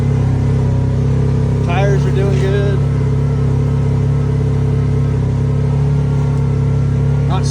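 A Kawasaki Teryx4 S LE side-by-side climbing a steep hill, its engine a loud steady low drone held at constant load, with a voice talking faintly over it.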